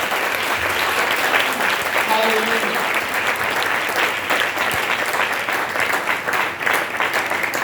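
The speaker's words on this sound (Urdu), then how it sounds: "یسوع کے لیے زوردار تالیاں بجائیں" A church congregation claps loudly and continuously in dense, sustained applause, with a voice calling out over the crowd throughout.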